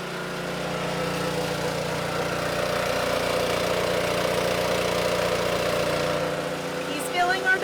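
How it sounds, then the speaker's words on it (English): A portable dive compressor aboard a sailing boat runs steadily while filling scuba tanks, a loud continuous mid-pitched engine drone like a lawnmower, easing off near the end with a few clanks. "Rob has broken out the new to us, dive compressor."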